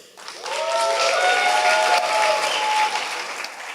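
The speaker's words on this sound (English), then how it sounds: "Please, a round of applause for Pierre from Transparent." Demo day audience applauds a startup presenter, clapping swelling quickly after a quiet start and holding full, with a few whistles or cheers riding above it before easing off at the end.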